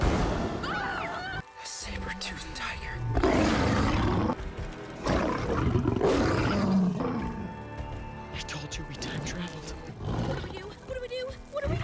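Deep, drawn-out roars and growls of a saber-tooth tiger in the animated Jurassic World Camp Cretaceous series, loud and repeated, mixed with dramatic score and crashing impacts.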